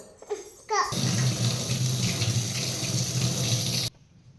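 Tap water runs into a sink to wash food, a steady close splashing stream that starts abruptly after a few faint sounds and stops sharply about three seconds later.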